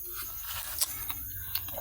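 Chocolate ice candy bitten with a few sharp, crisp crunches, near and fairly quiet against a faint background hiss.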